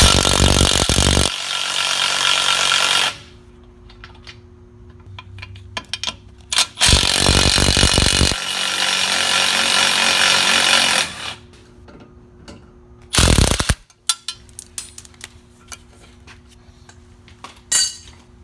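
Power tool loosening the lower shock absorber nuts during a suspension replacement, heard as several loud, broadband bursts of a few seconds each, separated by quieter stretches with a steady low hum and faint clinks.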